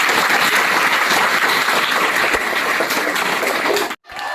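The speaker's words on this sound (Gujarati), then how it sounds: "જોરદાર તાળીઓ ભાઈ" An audience claps at a school children's parliament election at Bor Talav primary school, with loud, dense, continuous applause that stops abruptly near the end.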